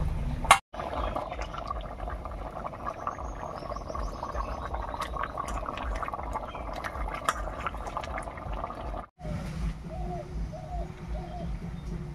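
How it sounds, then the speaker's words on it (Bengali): Bottle gourd and fish-tail curry boiling in a pot, a steady bubbling simmer with faint clinks, briefly cut off by two short silences. "বলক উঠে গেছে, এবারে ভেজে রাখা মাছগুলো দেব"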